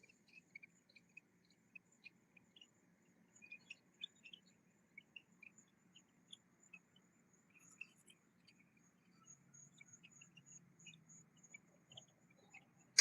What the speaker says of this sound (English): You hear that chirping? That's the frogs.